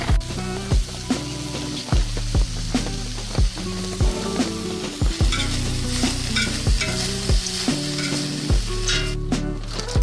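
Steak for tacos sizzles loudly in a pan at an outdoor archery camp, a dense continuous frying hiss punctuated by regular sharp scraping and clanking strokes of a utensil, close up with no talk.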